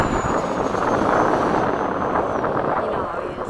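A Freewing 90mm F-15 RC jet streaks past at high speed, a steady loud broadband rush with a faint high whine sliding downward, wind buffeting the mic.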